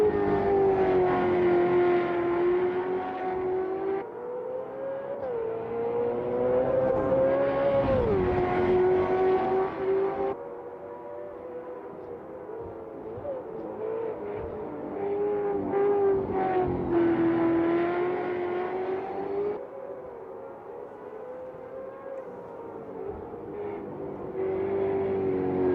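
Race cars lap Watkins Glen in the sim racing game Automobilista 2, engines droning loud and steady with rising and falling pitch through gear changes, overlapping machines passing without any talk.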